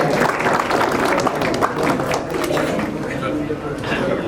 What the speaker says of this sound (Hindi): आप लोग ताली बजाकर बच्चों का स्वागत करें।